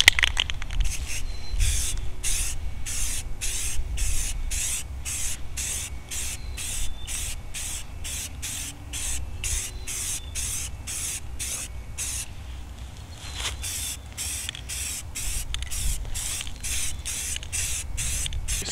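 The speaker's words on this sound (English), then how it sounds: "So now I'm going to go ahead and throw my first coat of primer on it" Short, evenly spaced bursts of aerosol spray hiss as a first coat of touch-up primer goes onto a sanded car panel, repeating rhythmically at close range for nearly twenty seconds.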